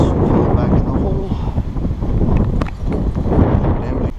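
Steady gusty wind buffeting the microphone, a loud continuous low rumble with a few faint clicks over it.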